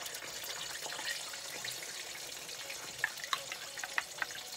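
Hush puppy batter frying in hot grease gives a faint, steady sizzle with a few sharp crackles and pops near the end, heard alone without talk.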